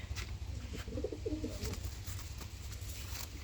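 A pigeon coos softly and repeatedly over a low steady background hum, at a loft where high-flyer pigeons are handled and shown.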